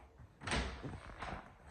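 A closet door in an apartment bathroom area is moved open or shut, giving a muted thump followed by a softer second knock, faint and close by.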